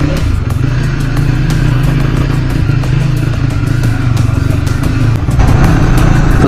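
A Triumph Scrambler 400 X motorcycle rumbles steadily underway on a road ride, its engine loud and close throughout with a constant throbbing drone and no talking.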